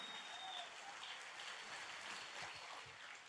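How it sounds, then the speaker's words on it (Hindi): A church congregation claps in praise during a worship service, producing a steady, even wash of applause that continues without a break and sounds somewhat distant and soft. "अब प्रभु को जोर ताली की भेंट चढ़ाएं।"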